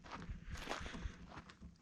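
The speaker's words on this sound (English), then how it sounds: "I thought I heard some footsteps coming in between the" Faint footsteps scuff and tap at an irregular pace among parked vintage cars, including a 1942 Cadillac torpedo body, over a rustling, noisy background.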